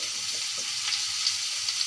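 Hot oil crackles and sizzles with a chili tempering for mango pickle, a steady close hiss holding evenly throughout with no voices.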